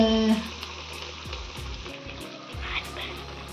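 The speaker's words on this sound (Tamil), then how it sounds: "நல்லா 2 மினிட்ஸ் வந்து சிக்கனை வதக்கணும்" Chicken pieces sauté in a pan for a home-style chicken gravy, giving a steady close frying sizzle with a few low knocks and scrapes, and no talking.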